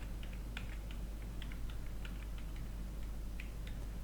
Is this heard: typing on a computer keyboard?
yes